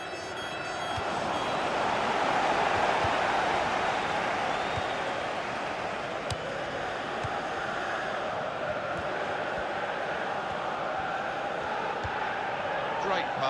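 Stadium crowd in a FIFA 16 football match gives a steady, swelling roar that holds throughout, with a voice faintly audible beneath.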